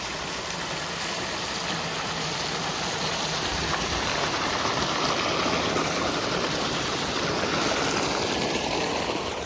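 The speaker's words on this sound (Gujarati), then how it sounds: "મોટર ચાલુ છે અને જો અહીંયા પાણી નીકળે છે આ રીતનું ધોરિયામાં જાય છે" Water pumped by a well motor gushes steadily into an irrigation channel on a Gujarat farm, a loud continuous rushing and splashing close by with no voices.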